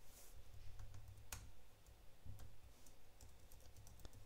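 Computer keyboard typing while entering code, a run of light, close key clicks at an uneven pace with a few sharper taps, with no voices.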